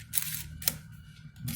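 Pentax ZX-50 film SLR camera firing its shutter at 1/2000 s, giving sharp mechanical clicks around a quiet gap, close and fairly faint.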